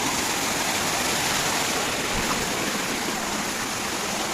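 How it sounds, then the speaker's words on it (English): A waterfall roars steadily, loud and close, a dense unbroken wash of falling water with no pauses and no voices. "So finally guys, I am at the waterfall."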